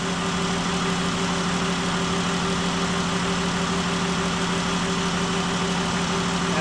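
A 2018 Dodge Journey, suffering thermostat problems, idles while warming up: a loud, steady engine hum with a constant drone and faint ticking vibration, close by and without talk.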